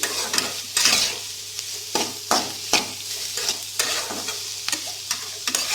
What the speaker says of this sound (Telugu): నూనెలోనే కుక్ అయ్యేదాకా ఫ్రై చేసుకోండి.